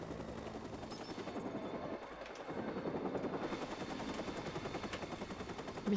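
Helicopter rotor thumping steadily in the video game Watch Dogs, mixed with rapid bursts of gunfire throughout, fairly loud and continuous.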